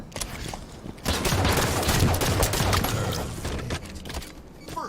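Gunfire from the video game Halo 5 in a multiplayer match, with a dense, rapid volley of repeated shots at moderate loudness lasting a few seconds.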